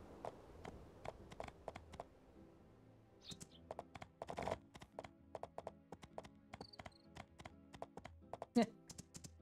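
Horse hooves clop in the video game My Time at Portia, a quick, fairly quiet run of irregular taps with faint in-game chimes, and a voice briefly speaks over it.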